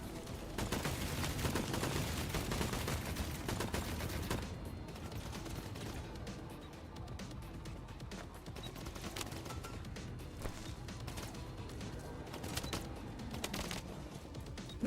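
Rapid gunfire rattles in the shooter game Dungeon Stalkers, a dense continuous stream of shots for the first few seconds, then sparser clattering bursts over a busy background.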